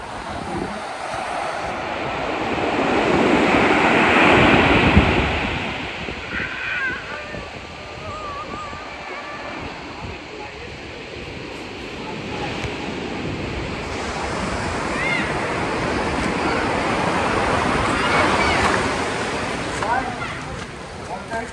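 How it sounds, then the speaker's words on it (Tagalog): Big Pacific Ocean waves break on a black sand beach, a loud, continuous roar of surf with rising and falling swells and wind buffeting the microphone, while people talk over it now and then. "Ang laki ng alon kasi Pacific Ocean."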